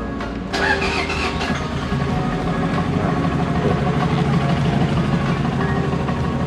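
A Toyota 2KD diesel engine cranks with a short burst and catches, then settles into a steady, loud, close-up idle that runs unbroken; the engine has a blown head gasket and lacks power when revved.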